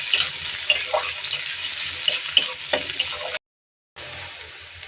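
Grated ginger, garlic and raw onion fry in hot oil with a close, crackling sizzle and scraping stirs, steady for a few seconds before a sudden brief silence, then sizzling resumes.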